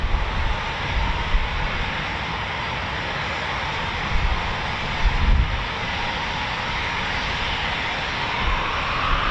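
An RAF Typhoon FGR4 jet at RAF Coningsby taking off, a steady broad roar of engine noise heard from a distance, sustained and fairly loud throughout.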